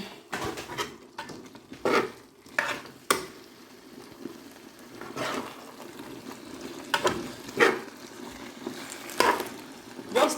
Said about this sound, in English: Just stir it together